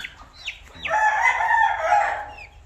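A Kadaknath chicken, a pure black-feathered breed, crows loud and close over a short stretch of cackling clucks, the call swelling and then tailing off.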